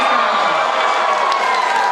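A wild crowd cheers and roars steadily at a one-on-one breakdance battle, with a dense, loud wash of shouting and whooping that holds for the whole stretch and has no breaks.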